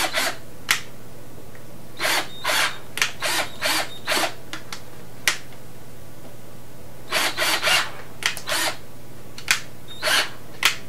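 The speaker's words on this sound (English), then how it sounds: "And then you gotta drill three more holes on the other side." A power drill boring holes through old shoes, in short bursts of whirring spaced a second or two apart, some in quick clusters, near and fairly loud against a quiet background hum.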